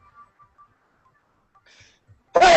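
After near silence with faint scattered noises, a single abrupt, loud sneeze bursts out close at the very end.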